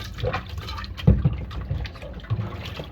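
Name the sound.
hot water poured into dirty stainless sufuria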